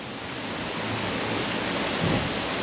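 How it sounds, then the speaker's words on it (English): Steady rain falling outdoors on a gusty day, a dense, even hiss of drops that continues without break and without voices. "It is raining quite a bit."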